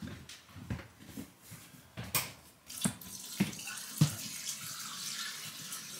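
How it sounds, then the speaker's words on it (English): Liquid is poured into a sink drain in a home, splashing and gurgling in soft, uneven bursts at close range with no one talking. "I'm going to pour a little bit more in this one just to use it up."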